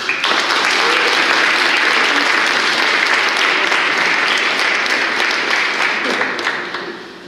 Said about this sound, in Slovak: tam je obrovský potlesk